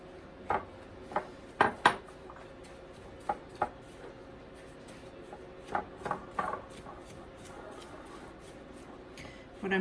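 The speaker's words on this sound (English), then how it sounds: "we're going to start 1 cup at a time, incorporating the breadcrumbs into the melted butter" Breadcrumbs are stirred into melted butter for a chicken cordon bleu casserole, heard as irregular close scrapes and taps of a utensil against a pan or bowl over a quiet background.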